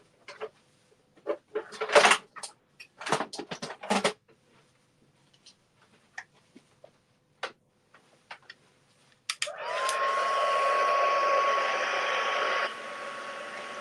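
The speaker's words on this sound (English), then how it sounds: "Let me just grab my heat gun." Heat gun switching on after scattered clicks and handling noises, then blowing a loud, steady rush of hot air for several seconds during a card-making craft session before it cuts out.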